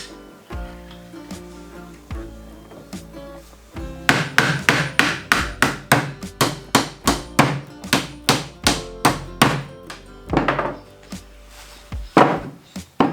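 Hammering nails into pallet wood while building a chicken nesting box: a few light taps, then a steady run of loud, ringing hammer blows at an even pace, close by, ending with scattered final strikes.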